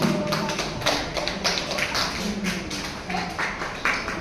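Audience clapping at an Anuvrat Samiti non-violence day gathering in Ghaziabad, a steady patter of many hands sounding fairly close and continuous throughout, with no talk over it.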